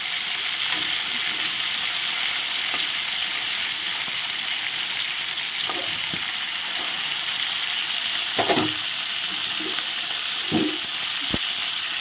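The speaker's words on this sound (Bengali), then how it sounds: "পরের মাছগুলো ভাজা হয়ে গেছে মাথাগুলো এখন উঠে দেবো একই তেলে আলুগুলো ভেজে নেব" Pieces of boal fish fry in hot oil, producing a constant bright crackling hiss. Occasional short knocks and scrapes from the pan or utensil sound up close, with no speech.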